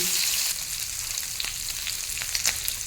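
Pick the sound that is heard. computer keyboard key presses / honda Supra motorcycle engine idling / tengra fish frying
tengra fish frying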